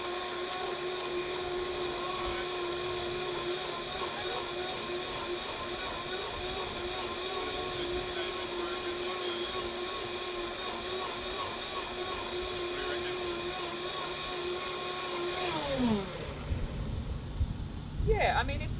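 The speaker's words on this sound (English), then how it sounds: "if you do have like a really high-powered blender, we're using Vitamix" A high-powered Vitamix blender whirs steadily and loudly for about fifteen seconds while blending an adrenal smoothie with a heaped teaspoon of powder and whole petals, then winds down abruptly, leaving a few clunks and handling sounds.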